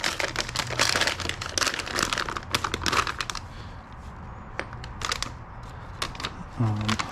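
A plastic bag from an Armour Detail Supply wheel coating kit is pulled open, with close crinkling and rustling plastic in quick bursts, then quieter handling noises toward the end.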